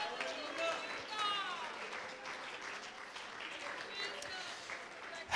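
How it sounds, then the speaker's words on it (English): A church congregation claps hands in praise, a soft, scattered patter of clapping at a distance beneath a preacher's voice and murmurs from the crowd. "Oh, I wish you'd clap your hands and give the Lord praise."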